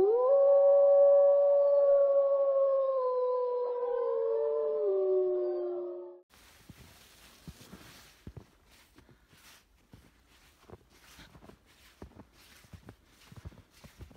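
A dog howls out in a snowstorm, a long, loud, wavering howl for about six seconds that breaks off abruptly, followed by soft crunching footsteps in snow.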